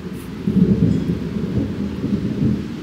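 Low, continuous rumbling thunder rolls on without a break, deep and distant, swelling and fading slightly with a faint wash of rain behind.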